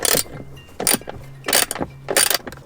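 Bolts holding the display of a Tesla Model Y Juniper being unscrewed, heard as four bursts of tool ratcheting and clicking in a steady rhythm, close up and fairly loud, with no talking.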